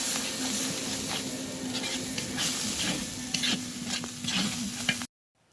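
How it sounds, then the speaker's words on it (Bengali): Spices frying with a splash of coconut milk in a pan, a steady close sizzle with scraping stirring strokes throughout, stopping abruptly near the end. "এখন সব রকম মশলাটা একটু ভালো করে ভেজে নেব"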